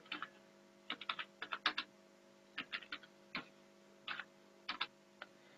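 Keys on a computer keyboard clatter in quick bursts of clicks with short pauses between them, close and fairly quiet, as a command is typed into a Windows server during an Active Directory migration.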